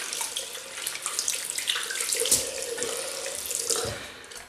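A water tap runs steadily into a sink while shaving products are rinsed, a continuous splashing stream with shifting gurgles and brief louder surges, close and with no voices.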